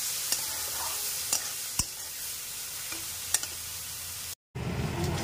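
Stuffed bitter gourd (karela) frying slowly in oil, giving a steady, even hiss of sizzling with a few faint ticks and taps from the pan before a brief cut.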